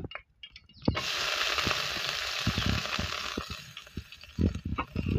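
Chopped onion and green chilies hit hot soybean oil in a wok and erupt into a loud, steady sizzle after a quiet start, with stirring scrapes and clicks knocking through the hiss.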